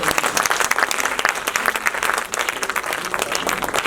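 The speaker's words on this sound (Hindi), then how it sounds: "मैं चाहती हूँ सबसे पहले एक बार जोरदार तालियां लता जी।" Energetic audience applause at a birthday tribute event, loud and close, with sharp individual claps standing out over a continuous crowd clatter for a few seconds.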